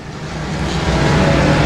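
A race car engine roars on the Timberline Speedway track, a loud steady high-revving drone held up and growing slightly, close and continuous with no break.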